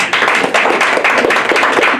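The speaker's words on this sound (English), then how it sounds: "Let's give a round of applause, y'all." A round of applause at a live show, a dense burst of hand claps and taps that is loud and continuous for a couple of seconds.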